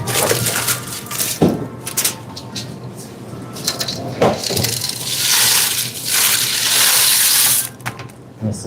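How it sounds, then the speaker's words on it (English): Dry pasta dropped into a pot of water at a workplace kitchen, a few sharp clattering splashes and rushing water sounds, loud and close, with no talking. "That's the sound of my pasta going in the water."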